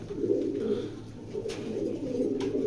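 Young male racing pigeon from 2023 cooing on a Bangladeshi farm, with soft low repeated coos running steadily throughout at close range.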